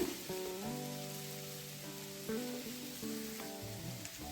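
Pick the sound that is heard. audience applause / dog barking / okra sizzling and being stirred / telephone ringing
okra sizzling and being stirred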